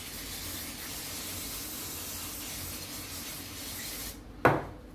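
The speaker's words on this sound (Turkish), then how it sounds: "balata spreyimizde" Brake cleaner sprayed onto hydraulic jack parts in a repair setting: a steady, close aerosol hiss runs for about four seconds, then a short, sharper burst near the end.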